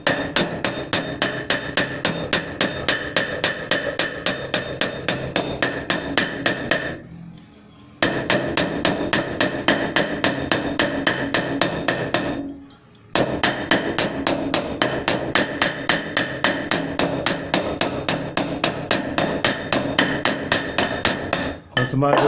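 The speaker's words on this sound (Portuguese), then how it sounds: "é só você martelar a chapa" Steady metal hammering on a silver sheet, rapid regular blows with bright ringing clinks, pausing briefly twice before resuming at the same brisk pace.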